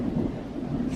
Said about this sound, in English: thunder and lightning. They were so loud it like rattled the walls in here